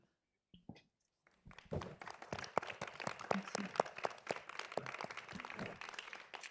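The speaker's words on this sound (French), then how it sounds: "Il y avait des applaudissements." A conference audience breaks into applause after a talk: a few isolated claps first, then sustained clapping with sharp individual hand strikes, heard from some distance and moderately quiet.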